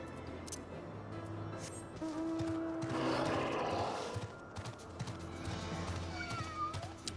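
A cat meows in the Final Fantasy XIV game, sounding as a few short, tonal calls over steady game music and ambience.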